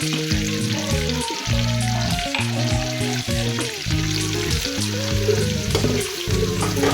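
Butter and fresh cream sizzling and bubbling in a pan while making chicken cheese boti, a steady close crackle with stirring scrapes, no voices.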